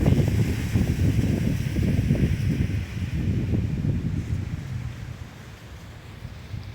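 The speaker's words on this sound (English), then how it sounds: "It is a very windy day here in my little stadium today." Strong wind gusting across a small backyard stadium, a steady low roaring rumble buffeting the microphone throughout, loud and continuous with no voices.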